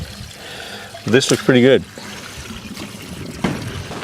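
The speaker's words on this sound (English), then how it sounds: "as the water comes out from the bottom and then is pumped back up through the engine" Flush water trickles and drains out of a Toyota Troopy engine block in a steady low wash, with someone speaking briefly over it.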